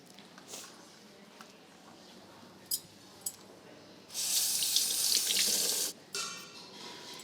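Running tap water gushes steadily over eggplants in a sink for a couple of seconds, preceded by a few sharp clicks and handling sounds, close and fairly loud against a quiet kitchen.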